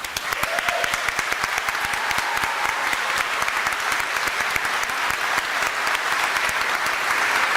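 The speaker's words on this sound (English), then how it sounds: "I'd like to acknowledge them with a round of applause." Sustained round of applause from a large audience at a college ceremony, dense and steady clapping holding at an even loud level throughout.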